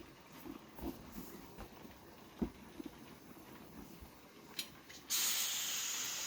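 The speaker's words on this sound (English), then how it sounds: "And releasing all the pressure so that there's no pressure in this cone lid at all." A pressure canner loaded with potatoes vents steam: a few faint clicks and taps, then a sudden loud, steady hiss that bursts out and carries on to the end.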